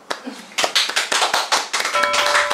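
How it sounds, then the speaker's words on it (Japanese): Hand clapping from a few people indoors in a casual home setting, a quick run of sharp close claps followed by a brief burst of livelier clapping. "拍手。"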